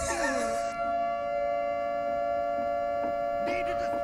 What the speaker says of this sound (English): Play the siren.